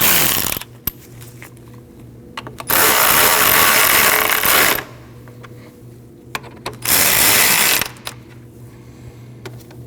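A power ratchet tightens two 10mm bolts on a coolant reservoir in a 2003-2008 Subaru Forester 2.5L H4, two loud sustained bursts of whirring separated by quieter clicks and handling noises, close up.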